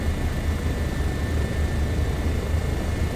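A Bo 105 helicopter in flight in Microsoft Flight Simulator 2024, a steady, loud engine and rotor drone with a constant low rumble and thin high whine, unbroken throughout.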